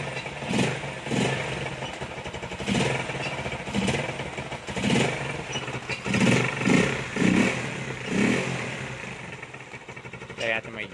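A Rusi Flash 150 motorcycle engine, 2024 model, revs repeatedly during carburetor tuning, rising and falling blips over a running idle, close and loud, with people talking nearby.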